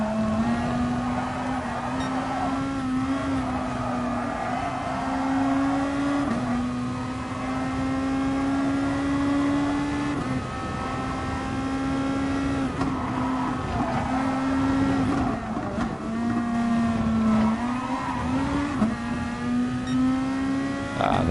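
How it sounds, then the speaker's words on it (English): A race car engine in a PS4 racing video game, droning steadily at high revs throughout with small rises and dips in pitch as the throttle changes. "here I just went on the full throttle a little bit too much"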